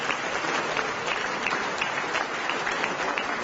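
An audience at an accountants' institute prize ceremony gives Arun Jaitley a steady round of applause, with dense, even clapping that holds at a consistent level for the whole stretch.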